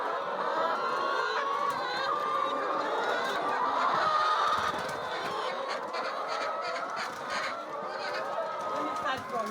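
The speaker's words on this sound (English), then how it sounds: "these birds can be crazy when it's time for feeding." A crowd of poultry on a farm honks, clucks and squawks at feeding time, a dense continuous chorus of overlapping calls heard close and loud.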